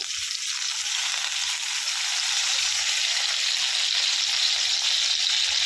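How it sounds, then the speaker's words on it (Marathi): Green chillies simmer in a pan of oil, water and salt with a loud, steady, close hiss of bubbling and sizzling that holds evenly throughout, with no voices. "आणि मस्त शिजू द्यायच्या आहेत मिरच्या इथे छानपैकी, जेणेकरून पूर्ण पाणी तेल एकजीव होईल"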